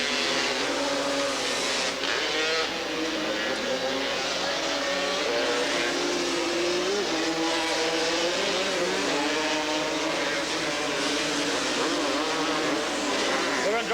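Several Kawasaki three-wheeler ATV racing engines at a 1986 AATVA Grand National race in Porterville scream and buzz together continuously, pitch rising and falling as the machines accelerate and jockey for position.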